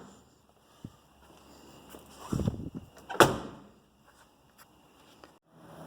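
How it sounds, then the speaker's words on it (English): A couple of heavy thuds as the doors of a 1982 Mercedes 300TD with new door rubber are slammed shut one after another, with a few faint clicks around them, otherwise quiet. "There's some new rubber on the doors, so you kind of got to slam them."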